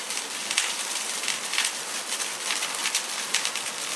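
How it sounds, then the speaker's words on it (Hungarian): Dense crackling and fizzing of burning charcoal lit for roasting a turkey, a continuous fine popping texture with no voices. "Faszén be van gyújtva, ízzik"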